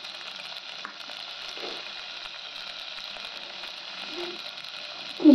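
Onions frying in a pan for menthula pulusu, a soft even sizzle in the background with a few faint utensil taps and a louder knock right at the end.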